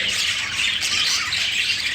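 Budgerigars squawk and chirp continuously in a busy, bright chorus, a dense flock chattering close by without pause.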